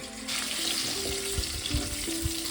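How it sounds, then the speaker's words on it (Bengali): Salt-and-turmeric-coated eggs frying in oil in a wok make a steady broadband sizzle, with occasional soft clatter of stirring and a few low thumps; no speech. "ডিমগুলো আমি ভালো করে ভেজে মিনিট 2 ভেজে তুলে নেব"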